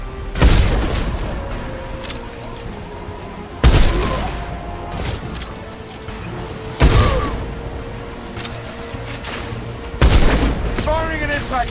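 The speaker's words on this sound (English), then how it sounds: "Firing an impact shot!" Four heavy booming impact shots in the game Mass Effect 2, spaced roughly three seconds apart, each a loud thump fading into rumbling battle noise, with voices heard under the action.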